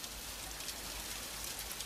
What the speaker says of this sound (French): la pluie apparaît et efface tous les dessins